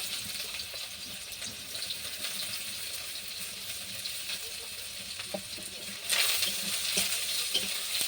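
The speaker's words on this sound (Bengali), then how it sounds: "তেল গরম হয়ে গেছে আমি এরপর পেঁয়াজটা দিয়ে দিচ্ছি" Chopped onion frying in hot oil for a fish curry with potato and eggplant, a continuous close sizzle and crackle that suddenly swells louder near the end.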